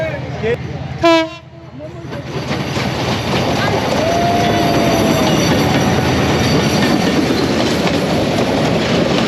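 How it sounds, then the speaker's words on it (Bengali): Train approaching in rural Brahmanbaria, Bangladesh: a brief horn sounds early, then the rumble of wheels and carriages swells and holds loud and close, with a faint squeal of wheels. "ট্রেন আসতেছে"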